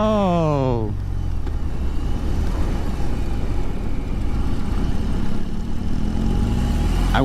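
A 2021 BMW R 18 motorcycle pulls hard in first gear at full throttle. Its engine note climbs steeply, then settles into a loud, steady rumble mixed with heavy wind roar, close to the rider.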